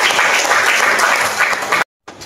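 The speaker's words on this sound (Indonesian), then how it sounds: "tepuk tangan untuk Mbak Jasmine" A classroom of students applauds with brisk, steady clapping, close and fairly loud, cutting off abruptly near the end before a brief quieter tail.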